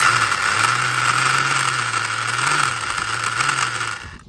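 A small RC car whose front drivetrain has no differential rattles and whirs loudly under light throttle, a steady metallic clatter with a wavering motor tone running throughout.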